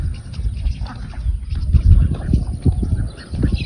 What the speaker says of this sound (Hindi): डक्की भाई यार चला जाएगा पाउंड में।